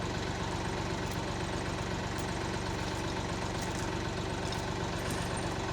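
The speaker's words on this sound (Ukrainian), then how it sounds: "Гребеться трактор, гребеться машина." A tractor and a Land Rover Discovery 5 3.0 petrol SUV rumble steadily under strain pulling through mud, a low droning idle with a mechanical throb, continuous and fairly loud, no voices.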